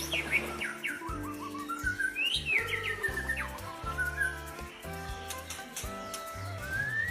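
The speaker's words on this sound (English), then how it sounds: "as soon as the bird saw that Little Dragon was helping her, she started to sing" A small bird sings a bright run of chirps and twittering whistles over gentle background music, with no talking.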